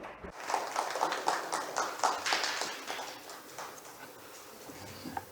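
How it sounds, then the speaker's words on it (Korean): Audience at a high-level forest roundtable event applauding the keynote speaker, a fairly quiet, steady patter of hand claps in a hall that thins out toward the end. "큰 박수 부탁드립니다."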